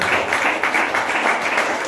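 A church congregation claps together in steady, continuous applause, with no voices standing out.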